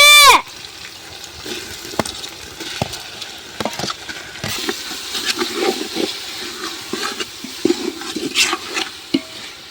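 Onion-tomato gravy for Gujarati urad dal bubbles and sizzles in a pan while a spoon scrapes and stirs with scattered clinks, after a brief loud splash at the start.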